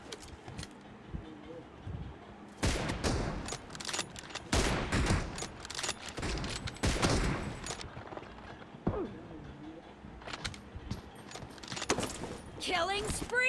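Sharp sniper rifle shots crack in a video game, several loud bursts clustered amid clicks and rattles of weapon handling, with a voice speaking between them.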